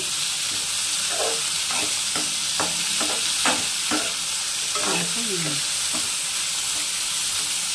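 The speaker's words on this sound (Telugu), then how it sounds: "ఆనియన్స్ కూడా కొంచెం ఫ్రై అయిపోవాలండి బాగా" Onions fry in a pan for spicy mutton biryani, a loud, steady close sizzle with a run of short scraping and knocking strokes from stirring spread through the middle.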